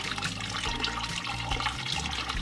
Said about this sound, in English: We're gonna dump out the water that's in the filter